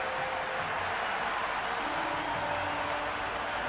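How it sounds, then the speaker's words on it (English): A stadium crowd in the Cricket 26 video game sends up a continuous broad roar of cheering and applause from the stands, steady and loud with no clear breaks. "There's a buzz, a real buzz coming from the stands."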